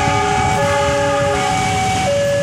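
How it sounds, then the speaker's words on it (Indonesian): A CC206 double-traction container freight train passing overhead on an elevated line above houses, a loud, sustained horn-like tonal blare that steps down in pitch several times over a rumbling rail roar, with no talk. "CC206, kereta api barang peti kemas menuju stasiun Sidotopo itu teman-teman."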